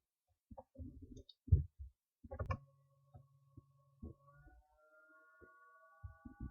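Computer mouse clicks while configuring a RHEL6 system for an Active Directory domain: a few faint, sharp, isolated clicks spread irregularly, with a low hum in the quiet background.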